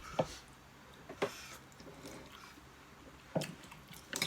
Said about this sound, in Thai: อ๋อซดน้ำหน่อย